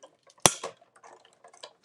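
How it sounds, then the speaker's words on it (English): A single sharp crisp snip of a thin acetate sheet being cut, followed by faint small rustles and taps nearby. "That's the sound of acetate cut."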